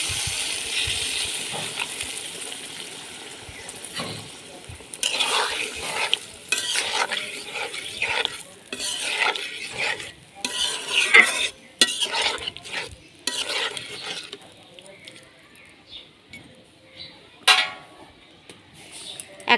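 Pointed gourd is stirred in a pan after a little water goes in, a close, busy run of scraping spoon strokes over a soft sizzle, fading to sparser stirs toward the end.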